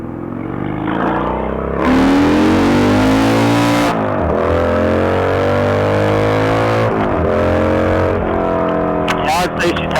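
A carbureted Harley-Davidson motorcycle with a newly fitted accelerator pump accelerates hard, its loud engine note climbing in pitch through two or three gear shifts, with heavy wind rush throughout.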